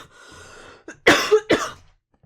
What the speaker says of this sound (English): Coughing segment.